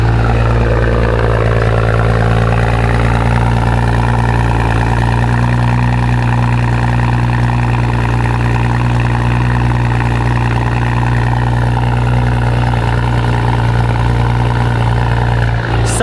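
A BMW 335i engine idles loudly and steadily up close after a cold start, a deep, even rumble that holds for a long stretch without revving.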